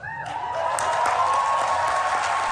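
Applause from delegates at the United Nations as the ocean treaty agreement is reached, a dense steady wash of clapping that swells after a brief start and holds at an even, fairly loud level.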